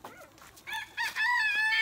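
Chicken or rooster vocalising outdoors during a family feeding outing, bright harmonic calls building in loudness and ending in a strong, sustained crow-like cry, close by with no talk.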